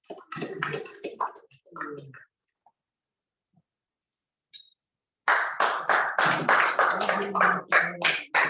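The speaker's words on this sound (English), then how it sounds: "A round of applause for yourself." An audience at a sports hall of fame induction in Lagos claps briefly at first, falls silent, then breaks into a second loud burst of applause that carries to the end.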